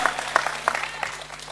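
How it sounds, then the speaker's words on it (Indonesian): Scattered applause from an audience at an Indonesian religious gathering, a brief burst of uneven individual claps rather than a dense roar. "Nah ya, tepuk tangan."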